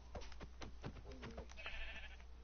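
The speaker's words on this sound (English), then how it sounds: "Sheep!" A Minecraft sheep bleats several times in quick, wavering calls, with a thin tone and steady low hum underneath.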